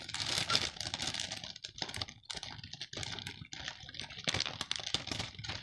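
A parcel of scrapbooking and craft supplies being unpacked up close: continuous crinkling and rustling of plastic and paper wrapping with small taps and snaps, fairly steady and busy, no talk.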